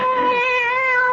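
A single cat meow in an old-time radio drama, loud and close, drawn out for about a second with a clear tonal wail and no talk over it.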